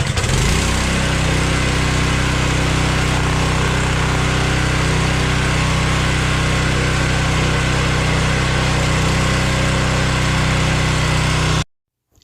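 A DeWalt 3400 psi gas pressure washer's small engine runs loud and close, a steady rough drone with constant low rumble held throughout, cutting off sharply at the end; no talking.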